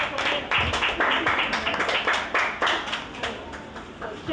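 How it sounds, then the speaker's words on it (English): An audience at a school book event applauds, a dense burst of clapping hands that stays loud and fairly even for several seconds before easing slightly toward the end. "A round of applause for him."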